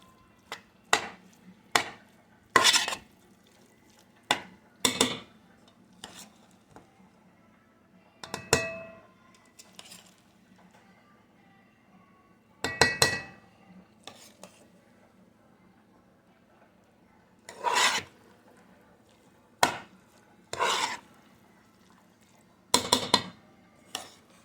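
Metal pot clanking repeatedly in a home kitchen while rice is added for a cheddar chicken broccoli casserole, sharp irregular clatters and knocks spaced over several seconds, close and moderately loud with no talk.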